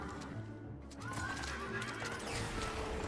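A horse in the Kingdom Hearts 3 video game lets out a clear, loud whinny over game background sounds and music, followed by clip-clopping hooves.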